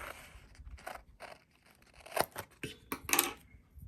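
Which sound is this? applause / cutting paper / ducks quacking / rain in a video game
cutting paper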